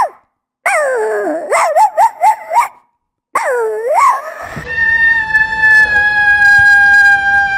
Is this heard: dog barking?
yes